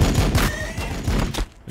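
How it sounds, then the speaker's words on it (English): A rapid, rattling volley of gunfire from the Warhammer 40,000: Battlesector strategy video game, with close overlapping shots and heavy low thuds that stay loud and steady before briefly dropping off. "Opening fire."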